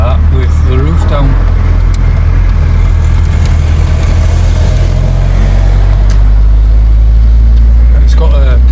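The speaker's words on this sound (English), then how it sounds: "It's actually the first time ever I've driven the car with the roof down." A BMW Z3 roadster rolls along with its roof down, a loud steady engine drone and road rumble filling the sound, with wind buffeting on a breezy day and someone talking over it.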